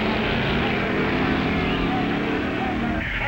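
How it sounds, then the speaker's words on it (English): Engine of an A Gasser drag racing car from 1958 drones loud and steady throughout, with a voice talking over it. "And there goes his brother Phil and his A Gasser, affectionately called Grandma."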